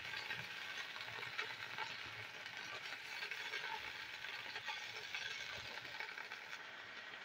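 Potatoes frying with ginger, garlic and onion for aloo gobi give a steady, soft sizzle that stays even and quiet throughout, with faint stirring and no voices.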